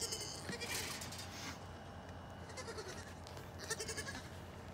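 Goats bleating among a group of farm goats playing, several cries over a few seconds against steady background noise, near and fairly loud.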